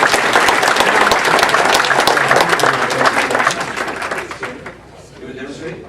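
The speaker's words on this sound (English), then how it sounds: "Let's give a round of applause." An audience at a game timing session bursts into loud, dense applause. The clapping holds strong for several seconds, then thins and fades toward the end, with a few voices mixed in.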